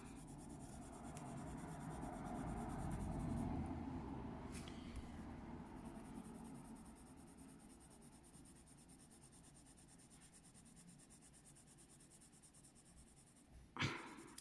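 Soft, steady scratching of coloured pencils on paper, close and quiet, continuing in a gentle rhythm before a brief louder clack near the end.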